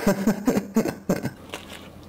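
Close, crunchy chewing of an oven-baked quesadilla, several quick crisp bites in an irregular rhythm over about two seconds, with no talk during the chewing.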